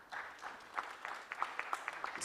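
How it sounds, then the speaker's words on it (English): A conference audience at a national legal aid conference applauds faintly, with scattered claps rising and falling at a distance. "So we can clap for that."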